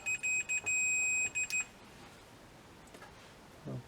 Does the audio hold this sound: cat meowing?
no